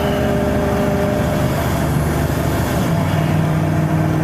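A truck engine with a major hesitation fault, check engine light on, runs loud and steady with a low rumble and faint whine, straining and uneven as it struggles in first gear to pick up speed.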